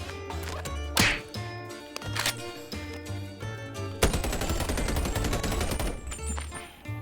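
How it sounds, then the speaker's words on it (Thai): Gunfire from a gun in a VR game, with sharp separate bursts in the first seconds and then a dense sustained volley, loud and close over a layer of game music. "ลองยิงดูนะ เสียงเพาะน่าดูนะครับ"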